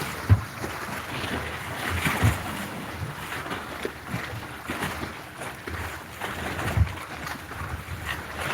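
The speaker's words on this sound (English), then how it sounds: "The wind picked up about 20-30 minutes ago." Wind buffets rough water in a Juneau, Alaska harbor with yachts, a steady broadband rush with scattered gusts, faint knocks and splashes, and no voices.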